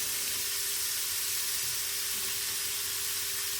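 Shrimp frying in a pan for a Mexican shrimp dinner, a steady soft sizzle and hiss that runs evenly throughout with no talking.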